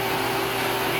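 A Hoover vacuum cleaner runs steadily with a continuous whirring roar and a thin, constant whine, close and unbroken, with no voices.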